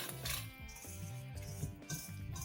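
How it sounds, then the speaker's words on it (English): Whisking egg, egg yolk, flour and powdered sugar batter for chocolate lava cake in a bowl, with steady close clinking and scraping of a utensil against the bowl, no talking. "we're just going to mix it all up together here"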